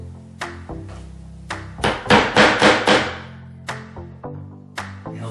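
A hammer strikes a screw to make a center punch during an IKEA cabinet installation: a few spaced taps, then a quick burst of six or seven sharp blows, then a few more single taps, close and clear.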